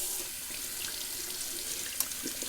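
Tap water running steadily into a bathroom sink for a cold rinse after shaving, a close, even hiss of flowing water with a faint splash, heard alone.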